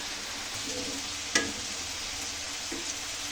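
Ginger and onion paste frying in a pan for biryani gives a steady, soft hiss of sizzling oil, with one brief clink partway through.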